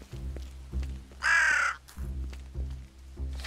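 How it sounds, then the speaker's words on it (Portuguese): Crows cawing in the fantasy video game Drova - Forsaken Kin: a loud, harsh raspy caw stands out over a low, droning game ambience with a steady pulsing rhythm, with no talking during the call. "Tem vários corvos no caminho."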